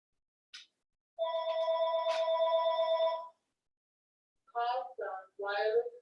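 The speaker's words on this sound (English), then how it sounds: "Call from wireless caller" A telephone rings with an incoming call: one long, steady electronic tone lasting about two seconds, loud and close, followed by a few short voiced sounds.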